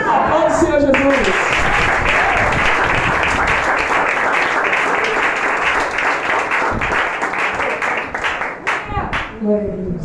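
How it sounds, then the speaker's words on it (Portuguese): A church congregation bursts into sustained, loud applause at a Portuguese-language worship service, dense clapping that holds steady for about ten seconds before thinning out at the end. "Aplaude o Senhor Jesus."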